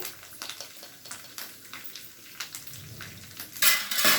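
Curry leaves and turmeric go into a frying tempering for mango pulihora, making a soft crackling sizzle with scattered spoon taps on the pan and a louder burst of spattering near the end.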